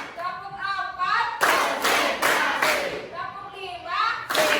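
Students in a classroom clap in counted bursts as an ice breaker, four loud sharp volleys of group clapping, each rising on cue between a teacher's spoken counts.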